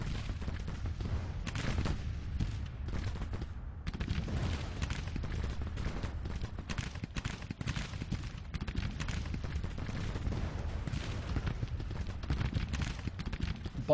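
Continuous distant battle noise from a Grand Tactician: The Civil War battle, with massed musket volleys and artillery fire crackling and rumbling steadily throughout, no voices.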